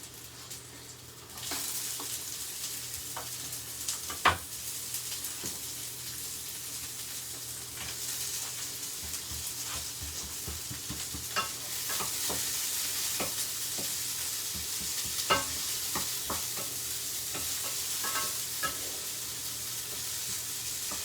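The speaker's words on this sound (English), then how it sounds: "Make sure all of those onions are kind of broke up and they're frying away in that ghee." Chopped onions fry in ghee in a pan, giving a steady close sizzle broken by scattered clicks and scrapes as they are stirred, with no talking.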